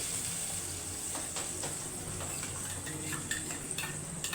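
Ground mustard paste being stirred into a simmering hilsa fish curry, with a steady low bubbling sizzle and a few soft spoon scrapes against the pot, no voices.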